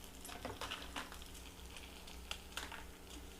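Urad dal, chana dal and dried red chilies fry in hot oil with a quiet, continuous sizzle, dotted with small crackles and pops as the lentils and chilies brown in the pan.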